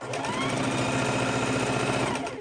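A sewing machine stitches quilt fabric pieces with a fast, even mechanical whirr and rapid needle clatter. The sound runs steadily and loud from start to finish, close by and with no talking.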